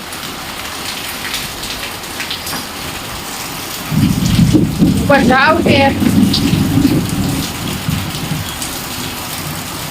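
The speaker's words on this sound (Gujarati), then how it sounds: "વરસાદ આવે છે ફૂલ જોરદાર" Heavy rain pours steadily on a rooftop terrace during a thunderstorm, and a loud thunder rumble swells in midway and lasts several seconds while people talk nearby.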